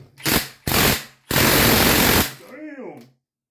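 Pneumatic impact gun hammering at seized bolts on a Honda Accord in a garage, three loud rattling bursts close up, the last one long, followed by a shout.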